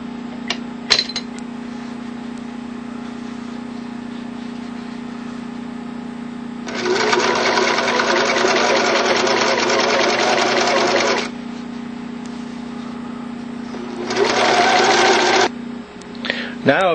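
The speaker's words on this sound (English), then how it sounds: "you're going to sew right next to the inside edge" A sewing machine stitches along the inside edge of a fabric fold while gear is being made, running in two steady bursts, one long and one short, over a constant low hum, with brief clicks between.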